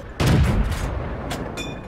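Gunfire from shooting at an enemy in a tank video game, a single heavy cannon-like blast followed by a decaying rumble and a couple of fainter distant shots.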